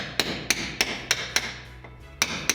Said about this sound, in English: You have also got chisels that will be a bit of a taper on, about 22-degree taper, and you can also use that for chipping